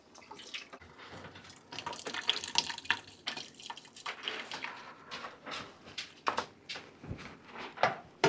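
Homemade soup stock pours and splashes through a colander, a quiet, irregular run of wet trickling and sloshing bursts with occasional clatters, no talking.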